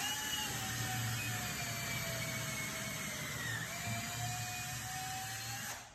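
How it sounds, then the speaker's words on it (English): A power drill bores holes through the seam edging of a mold for a life-size clay sculpture, giving a steady, loud motor whine with a high, even tone that runs for about six seconds before stopping abruptly. "drill some holes that go the whole way through on the edging or that seam line that we've created"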